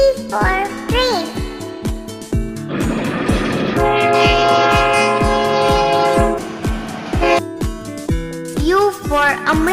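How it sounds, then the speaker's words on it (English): A train sounds its horn in long sustained blasts over rhythmic rolling clatter, loud and close, with sharp voiced syllables popping in at the start and end of the passage. "T for train."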